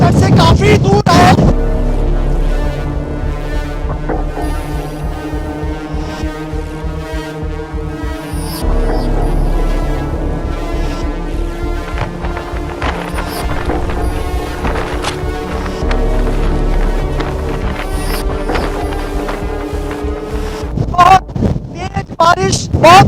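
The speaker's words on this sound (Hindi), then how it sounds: "बारिश, बहुत तेज हवाएं।" Strong winds and rain from Cyclone Biparjoy at Dwarka roar steadily, buffeting the microphone with a constant throbbing, rushing hum that swells in gusts.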